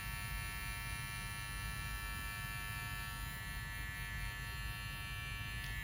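Hair clippers cutting a drop fade using only the corner of the blade, giving a steady, close electric buzz with mains-like hum that runs unbroken throughout.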